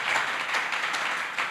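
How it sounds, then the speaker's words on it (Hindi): Applause from an audience at a Jain religious discourse, a steady dense wash of clapping sustained at even loudness for its whole short length with no talk over it. "लेकिन सिर्फ तालियां बजा करके काम नहीं होगा"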